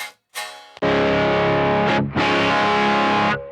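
Distorted electric guitar played through an all-analog pedalboard rings out in loud sustained chords, briefly cut off and restarted, thick and saturated with effects.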